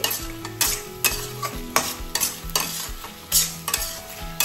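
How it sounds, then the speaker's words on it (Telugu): Fried paneer being stirred into a thickened chilli paneer sauce, with repeated scraping strokes of a spoon against the pan over a steady background sizzle, close and fairly loud, with no voices. "ఇప్పుడు మనం ఫ్రై చేసుకున్న పనీర్ని అయితే యాడ్ చేసేయాలి. అంటే బాగా కలపాలి."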